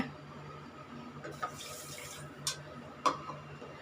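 Three-quarters of a cup of water runs onto sugar in a pan in a steady stream, with a few brief splashy bursts along the way.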